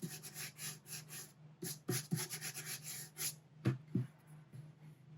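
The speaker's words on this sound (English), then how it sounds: "Any edges where you have paint on, you can also sandpaper those out." Close, rhythmic rubbing strokes of sandpaper over the painted edges of a mounted watercolour board, quiet but distinct, with a few sharper scrapes in between.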